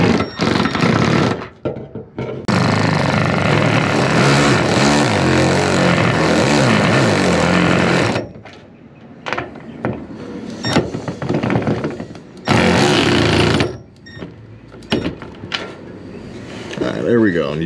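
A bolt is run into the underside of a trailer with a 14 mm socket while fitting a Pit Bull TRS restraint stand, giving loud, sustained whirring bursts of a powered driver broken by short pauses, with clatter between runs.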